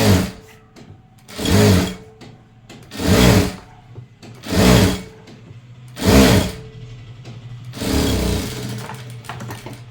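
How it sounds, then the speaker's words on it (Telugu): A sewing machine stitches folded blouse fabric in short loud bursts, five runs of rapid mechanical whirring separated by brief pauses, with a faint motor hum between them and no talk. "ఇది వచ్చేసి ఫోల్డింగ్ చేసుకొని ఒక కుట్టు వేసుకోవాలి ఫస్ట్."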